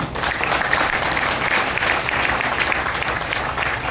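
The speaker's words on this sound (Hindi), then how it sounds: "जोरदार तालियां बजानी" A seminar crowd in Jamui, Bihar, claps loudly and continuously, a thick, even roar of many hands that stays at constant strength throughout with no pauses.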